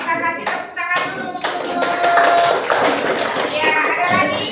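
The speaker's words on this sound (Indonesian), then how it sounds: "Kita kasih tepuk tangan dulu." A classroom of students clapping for a group that just presented its discussion results, a brief burst of hand claps that swells into steady applause, close and fairly loud, with some voices mixed in.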